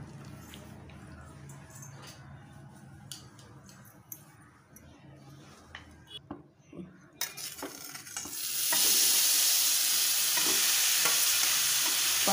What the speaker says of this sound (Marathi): पनीर चांगलं भाजून घ्यायचं आहे 5-10 मिनिटं